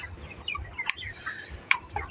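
Chickens in a shed with a running fan, scattered soft clucks and a couple of sharp, short calls over a low steady hum, fairly close and moderately loud.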